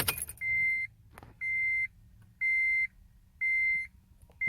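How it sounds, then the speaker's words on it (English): Inside an Acura TL from the 2004–2014 generation, the ignition is switched on and the dashboard sounds four evenly spaced, steady electronic beeps. Each tone lasts about half a second, over a quiet cabin hum. "Now you turn the ignition switch on."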